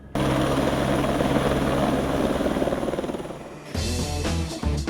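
A helicopter flying from New York City to Long Island, its rotor thudding steadily and loudly, then the sound shifts abruptly near the end as the engine tone changes.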